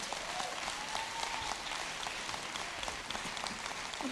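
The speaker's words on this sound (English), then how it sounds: "I don't like all the clapping." Audience clapping during a fire district board meeting, a faint, steady patter of many hands spread through the room, continuous throughout.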